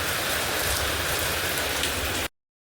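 Rain falling heavily on a surface, a dense, even hiss close and loud that cuts off abruptly after about two seconds, leaving silence.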